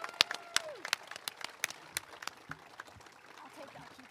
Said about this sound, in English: One more round of applause for all our graduates.